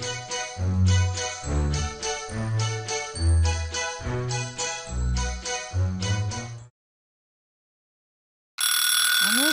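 An alarm clock in an anime bedroom scene at morning wake-up bursts in loudly and abruptly near the end, after a rhythmic chiming melody and a short silence.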